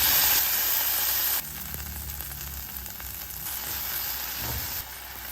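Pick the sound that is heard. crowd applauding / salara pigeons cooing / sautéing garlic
sautéing garlic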